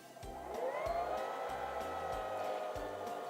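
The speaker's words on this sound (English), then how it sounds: "And now we can finish winding the bobbin." A Singer 3337 Simple sewing machine winds a bobbin, its motor rising quickly to a steady, loud whirring hum that holds without pause, with a faint rhythmic low thumping underneath.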